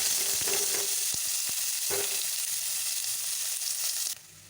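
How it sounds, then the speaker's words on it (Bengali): Small-chopped onions fry in hot oil with bay leaf, cardamom, cinnamon and cloves, giving a loud, steady close sizzle with faint stirring scrapes before it drops away near the end. "পেঁয়াজগুলো ভেজে নেব"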